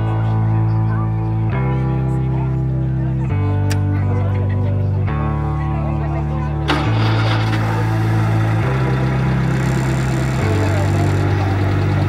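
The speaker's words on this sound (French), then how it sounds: "Le moteur tourne rond comme à l'époque" An old car engine idles loudly and steadily, a deep rhythmic thrum with a shifting low drone throughout.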